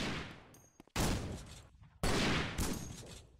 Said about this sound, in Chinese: 机枪来了，机枪，机枪，机枪， 嗨，自动机枪